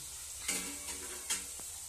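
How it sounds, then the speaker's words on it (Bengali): Chopped carrot, capsicum and beans with salt frying in a pan, a soft sizzle broken by two or three brief scraping stirs of a spoon, quiet and close, without talk. "এতে পরিমাণ মতো নুন দিয়ে ভেজে নিচ্ছি এটাকে"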